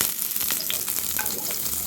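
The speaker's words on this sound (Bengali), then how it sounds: "পেঁয়াজটাকে আমরা লাল লাল করে ভেজে নেব" Onions fry in hot oil in a wok for vegetable biryani, a brief, close, steady sizzle with light crackling and no speech.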